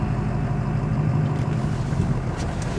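A car engine hums at a low steady idle as a beginner driver gives a touch of gas, the drone close and constant throughout.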